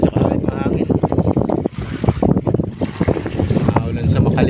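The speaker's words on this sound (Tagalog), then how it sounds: "Lakas ang hangin ngayon, kabalbas. Alon." Strong wind and rough waves batter a boat at sea off Marinduque in rainy, gusty weather, with steady roaring wind noise buffeting the microphone and voices speaking over it throughout.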